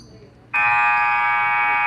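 A basketball buzzer at the end of a high school JV/varsity half blares suddenly after a quiet moment and holds as a loud, steady, harsh electronic tone.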